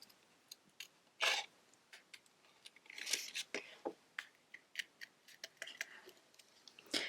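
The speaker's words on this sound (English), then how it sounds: "The easiest way to fussy cut is to rotate your paper and keep your scissors straight" Scissors fussy cutting around a paper image, a series of soft irregular snips and clicks up close, quiet and intermittent with short pauses as the paper is turned.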